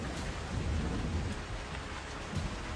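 Heavy rain pours down during a flood in Guangxi province, southern China, a dense steady roar of drops with low rumbling underneath, continuous throughout with no talk.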